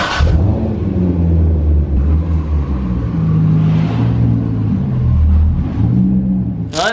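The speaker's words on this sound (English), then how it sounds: "So what I have to do now is just move the car." A Chevy Colorado pickup is driven and moved, its engine rumbling close and loud with a few rising revs and a steady low drone, with no talk over it.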